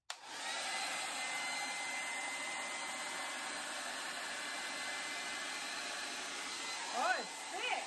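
A steady, loud rush of blown air, like a hair dryer, runs without a break over acrylic pour paint, with a brief rise near the end.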